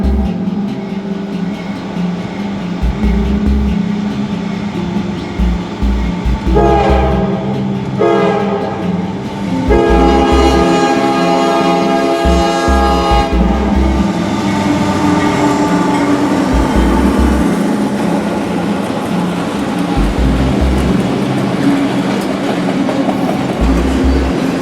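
Freight train hauling empty auto racks rolls past a grade crossing in the Winston-Salem district, horn blasts sounding repeatedly over loud, steady rumbling and clickety-clack of wheels, close and sustained throughout.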